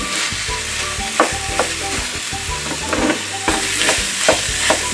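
About 350 grams of minced meat sautéing in a pan, a constant close sizzle broken by repeated scraping and clinking stir strokes as the meat is broken up, with no voices.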